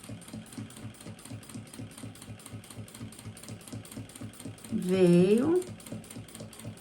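A sewing machine stitches bias binding along the edge of a makeup bag, running in a fast, even mechanical rattle throughout, while someone speaks briefly near the end.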